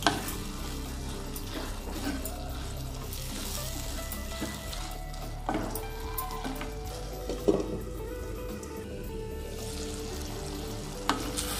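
Tomato pieces with turmeric, salt and ginger garlic paste cook in a pan for an Andhra curry, a low steady sizzle with occasional spoon scrapes and soft clinks against the pan, fairly quiet and close, no speech.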